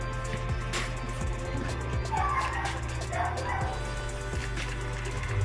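A dog whimpers and lets out short yips and barks over a steady background hum, fairly close by.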